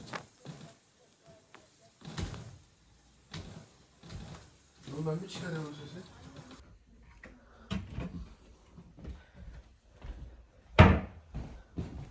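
A door is pushed shut inside a villa during a game of hide-and-seek, a single sharp thud landing near the end after scattered quieter knocks and movement, with people talking softly earlier.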